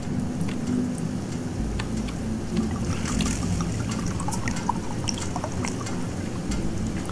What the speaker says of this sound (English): it is the sound that happens when you fill up the fuel